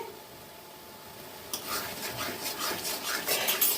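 Spices with turmeric are stirred into chicken curry in a pan. After a quiet start, a close rasping scrape of the spoon sets in and continues unevenly.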